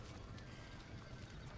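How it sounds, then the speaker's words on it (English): Horses in the Red Dead Redemption video game neigh and clip-clop amid dense, noisy in-game ambience, a continuous low rumble running the whole time with no clear speech. "Somebody get them horses out!"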